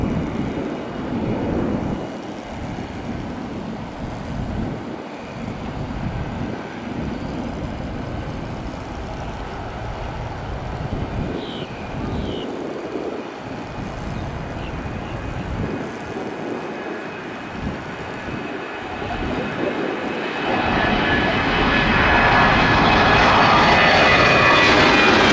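A Boeing 737-800 takes off at Miami airport bound for Austin, its jet engines roaring loud and continuous from a distance, swelling louder toward the end with some wind buffeting.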